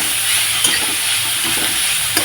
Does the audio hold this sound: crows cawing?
no